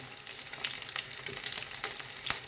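Steady crackling sizzle of onions frying in hot oil, with occasional sharper pops, close and fairly quiet, no voices.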